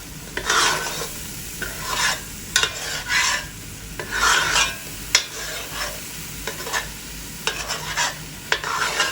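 Masala spices cooking in oil for a lime pickle, stirred in a pan with bursts of scraping and sizzling that rise and fall in irregular strokes.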